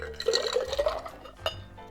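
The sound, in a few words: water poured into a cocktail glass with ice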